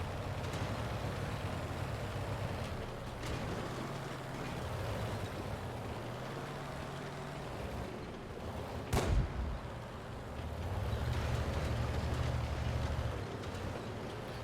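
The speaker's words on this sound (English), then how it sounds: "So what he does now is he's going to try and blind fire, right?" A tank gun fires blind in a video game battle: one sharp, heavy blast about two-thirds of the way through, over a steady low rumble of engine drone.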